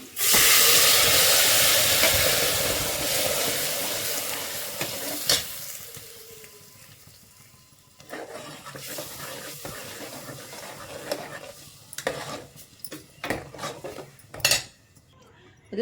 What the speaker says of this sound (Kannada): ಮಸಾಲೆ ಹಾಕಿದ ತಕ್ಷಣ ತುಂಬ ಸಿಡಿಯುತ್ತೆ ಸೊ ಹಾಗಾಗಿ ನಾವು ಪ್ಲೇಟ್ ಮುಚ್ಚಬೇಕಾಗತ್ತೆ